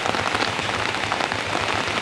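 Steady rain falls in a dense, even patter on surfaces close by, with no voices over it.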